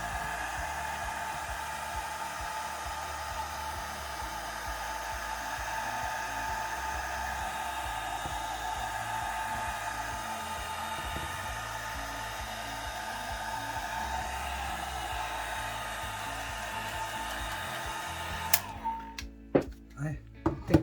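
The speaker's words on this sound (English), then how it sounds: "I'm going to take my dryer, put it on the low setting." A hair dryer on its low setting blows steadily over alcohol ink on a surface, a continuous close whooshing hum that runs unbroken and then clicks off near the end with a few handling knocks.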